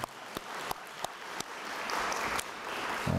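Church congregation applause: a few sharp, separate claps at first, then building into fuller, continuous clapping from the audience, moderately loud.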